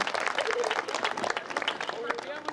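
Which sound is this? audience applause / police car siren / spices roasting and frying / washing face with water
audience applause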